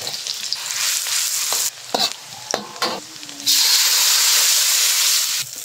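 Onion and garlic sizzle loudly in leftover oil from Spanish sardines, a steady frying hiss broken by a few clattering bursts as the ingredients go in, then a louder, fuller sizzle to the end.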